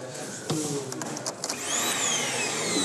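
A repaired household vacuum cleaner runs with a steady whining drone, a few knocks and clicks at first, then its pitch rises and settles into a loud continuous whir.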